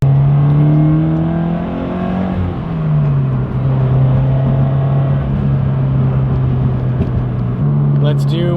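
Datsun 280Z on new tires pulling slowly, its engine note a steady drone that climbs gradually in pitch, loud and close inside the cabin, with a brief dip as the pull eases partway through.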